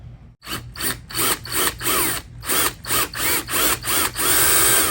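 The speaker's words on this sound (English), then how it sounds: "I'm going to drill out the current letters" A power drill whirs in about ten short bursts, drilling out plastic rivets on a 2021+ Ford Bronco, each grinding briefly before cutting off, with sharp rhythmic pulses close by.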